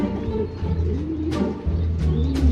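Pigeons coo at a loft, with low, throaty cooing close by, rising and falling over a couple of seconds, plus a few soft flutters and scuffs and no talking.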